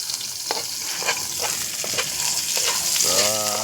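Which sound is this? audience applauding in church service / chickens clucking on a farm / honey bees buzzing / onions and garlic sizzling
onions and garlic sizzling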